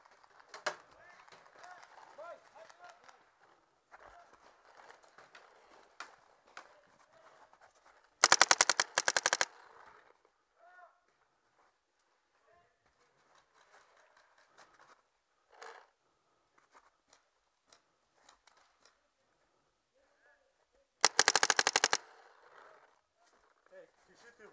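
Paintball guns fire in two short rapid bursts, loud staccato pops outdoors, with scattered voices and quieter background sounds between them.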